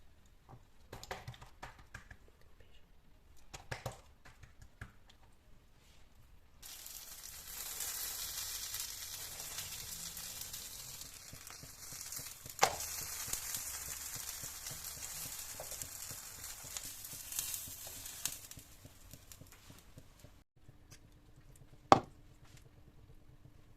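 Msemen dough frying in oil in a pan, a soft steady sizzle running for about ten seconds with occasional sharp clicks and taps, faint and close.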